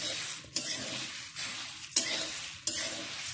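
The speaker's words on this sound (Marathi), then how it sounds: "ही मिरची आहे ना ह्याच्यातच टाकायची आणि ती त्याच्याबरोबर धण्याबरोबर भाजायची." Coriander seeds and dried chilies dry roasting together in a pan for a Konkani-style goda masala, with a steady soft rustle and faint sizzle as a spoon stirs them, plus three sharper scraping strokes spaced about a second apart.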